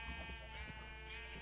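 A sheep in Minecraft gives one long, wavering bleat that holds steady for over a second, fairly clear and alone with no talking.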